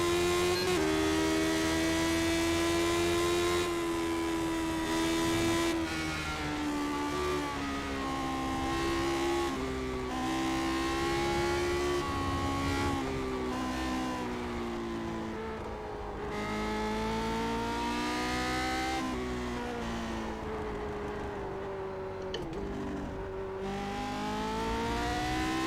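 Race car engines in iRacing at the Bristol oval hold a loud, continuous drone that rises and falls in pitch as the cars accelerate and lift through the corners, with no talking.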